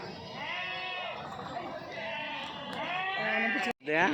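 Sheep and lambs bleat over and over, close and loud, at a busy weekly livestock market in Kadiri, with traders talking and haggling underneath the animals' calls.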